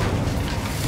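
Incendio fire spell cast in Hogwarts Legacy, a dense low rumbling whoosh of flame that holds steady and loud for under a second with no pause.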